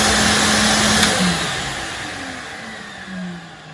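A 2018 Nilco 1218EL ex-school floor cleaner's motor hums steadily just after being switched on, its pitch wavering and sliding slightly as it settles, moderately loud and close with no voices.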